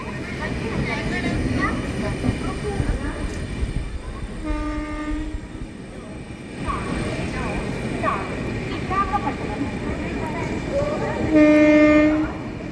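The Tirupati to Bhubaneswar weekly superfast express runs at night past a skipped station, its steady rumble and wheel clatter filling the carriage, with a horn sounding twice, the second blast louder near the end.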